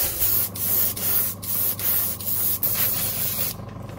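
Airbrush spray paint going on a fishing lure in another coat, a close steady hiss broken into short pulsing bursts with brief gaps, with a faint low hum under it and no talking.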